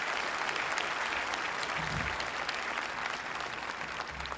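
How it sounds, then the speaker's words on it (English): Steady applause from an audience at a 2021 high school commencement ceremony, dense and continuous throughout with no speech over it. "please put your hands together and give those folks in your life a heck of a clapping"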